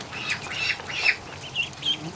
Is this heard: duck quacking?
yes